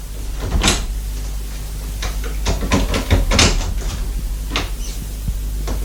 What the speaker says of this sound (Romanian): Ia să crăp ușor ușa să văd dacă a șters-o.